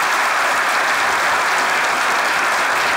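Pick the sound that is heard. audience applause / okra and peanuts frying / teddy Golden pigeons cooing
audience applause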